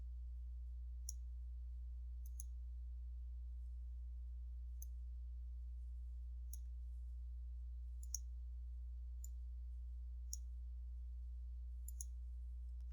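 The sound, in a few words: computer mouse clicking in Microsoft Word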